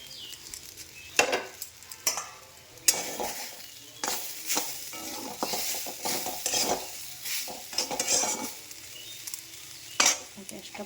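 Neem leaves are stirred into eggplant frying in oil, giving a steady sizzle broken by repeated scraping and clinking of a metal spatula against the pan.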